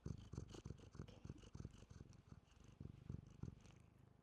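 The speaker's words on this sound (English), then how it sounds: "I hope you could hear that purring." A cat purrs very close and softly, a rhythmic low rumble pulsing in steady breaths with nothing else heard.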